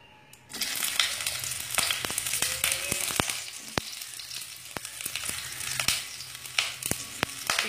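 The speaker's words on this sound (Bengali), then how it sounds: "এখন আগে বেগুনগুলো একটু সাতলে নেব।" Eggplant pieces frying in hot oil over a medium flame, a close steady sizzle and crackle that starts abruptly as they hit the pan, with scattered sharp pops and light spatula scrapes.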